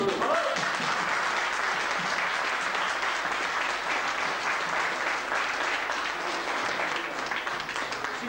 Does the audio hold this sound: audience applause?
yes